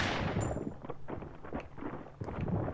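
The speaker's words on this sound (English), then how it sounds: "Shoot the nest two times. Okay, I shot him." Several muffled, booming gunshots from a video game shooter land in irregular succession, heavy and rumbling, with a noisy game backdrop.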